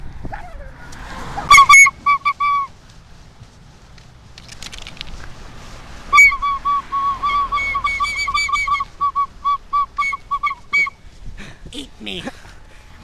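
A whistle is blown outdoors on a public street in repeated short, shrill blasts, one early burst and then a longer run of quick toots, with voices and street noise around it.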